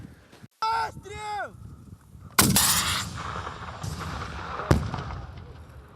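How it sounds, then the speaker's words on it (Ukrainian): An RPG grenade launcher fires: a loud sharp blast rings out nearby, followed by a fainter second bang, with brief whistling tones and rumble beforehand. "під снарядом доверху стріляєте РПГ вперед"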